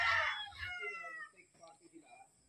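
Chickens in a small farm coop crow and cluck close by, with a rooster call at the start and softer clucks after it. A person speaks briefly over the birds.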